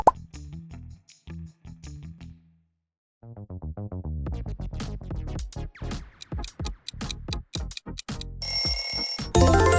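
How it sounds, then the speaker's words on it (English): Coca-Cola audio logo: a sequence of plucky, bubbly plopping notes that quicken and build, ending in a bright fizzing burst like a freshly opened fizzy drink, loud and alone. "Fizzy and fresh, Coca-Cola."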